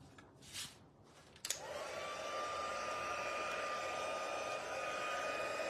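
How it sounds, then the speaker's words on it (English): A handheld heat tool for melting embossing powder clicks on and then blows a steady, close whooshing hum with a faint whine, running on after a brief quiet rustle. "Okay, let's get our heat tool."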